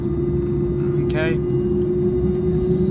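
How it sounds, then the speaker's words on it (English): Inside the cabin of a Mahan Air Airbus A310-304 on the takeoff roll, the engines keep up a loud, steady low roar and whine throughout, with a brief faint voice partway through. "so they're increasing the throttle."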